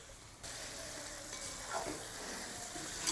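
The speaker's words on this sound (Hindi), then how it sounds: "चिकन शामिल करने के बाद कम से कम 2 से 3 मिनट तक हमने फ्राई करना है चिकन को ऑयल में" Marinated chicken with spices fries in hot oil in a karahi, a loud, dense sizzle that surges up after a brief quieter start and then holds steady and close.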